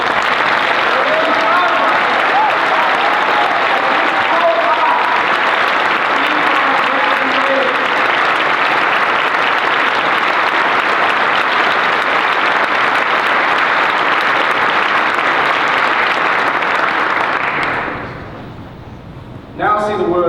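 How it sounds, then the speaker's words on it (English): Graduates and guests at a luncheon give a sustained round of applause, loud and dense for many seconds before tapering off, with a brief final clatter of claps. "Give yourselves a round of applause"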